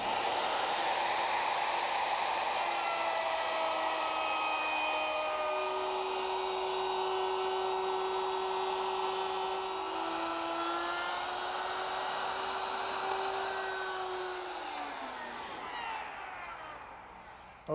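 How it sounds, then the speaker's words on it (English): A plunge router fitted with a half-inch straight bit cuts a dado in wood for an armoire shelf. A loud, steady high whine holds for about fifteen seconds, its pitch dipping as it cuts, then it spins down and stops near the end. "set up my plunge router with a half-inch straight cutting bit"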